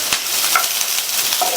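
Sliced onions and curry leaves sautéing in hot coconut oil, a close, even sizzle broken by a few sharp scrapes and clicks of stirring, no talking.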